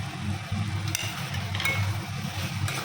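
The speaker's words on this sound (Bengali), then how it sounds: "এরপর আমরা দিয়ে দেবো হালকা সেদ্ধ করে রাখা আলুটা" Parboiled potatoes going into a hot pan for pea ghughni, giving a steady low sizzle with faint stirring and light pan scrapes, close and even throughout.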